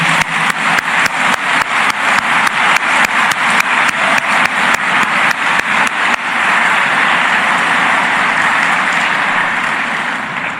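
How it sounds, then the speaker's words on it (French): A crowd at a medical graduation ceremony applauds, starting with rhythmic unison clapping in rapid regular beats, then breaking into a dense, sustained roar of applause that slowly fades. "mérite d'être saluée par un tonnerre d'applaudissements"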